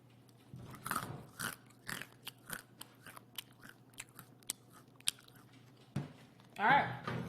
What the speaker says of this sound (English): one more crunch for the granola before I go